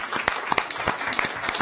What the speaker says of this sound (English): We're going to pause on that and give you a round of applause